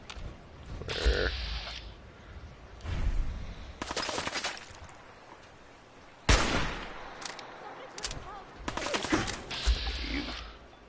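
Video game gunfire in repeated clusters of close shots and rattling bursts, with brief pauses between volleys and some mechanical clatter.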